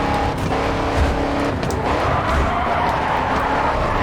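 A race car in the driving game GRID 2 roars loudly through a turn with a continuous engine snarl and tire noise that swells and shifts, with no talking.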